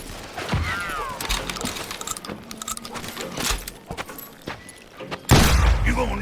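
Scattered gunshots in Call of Juarez Gunslinger on Switch pop amid western game effects. One heavy, loud blast hits near the end, and a voice talks in places.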